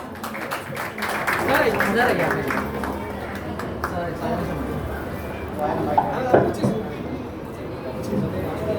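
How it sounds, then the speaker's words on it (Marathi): Applause from an audience at a felicitation ceremony held by the Bal Vikas Krida Mandal sports club in Shell Colony. Dense, steady clapping mixes with crowd murmur and a voice over a public-address system. "मित्रांनो टाळ्या वाजवा"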